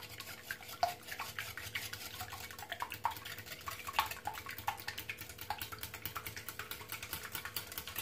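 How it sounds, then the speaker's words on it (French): A whisk beats olive oil into cake batter in a bowl, making a fast, steady, faint rattle of clicks that runs throughout with no voices. "je vais venir donc mélanger le tout au fouet"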